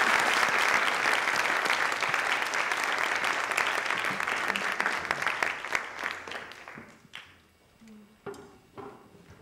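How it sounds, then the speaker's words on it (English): A conference audience applauds after a keynote on responsive web design at a Drupal design event, dense sustained clapping filling the hall for several seconds before thinning out into a few scattered final claps. "Another round of applause for Ethan."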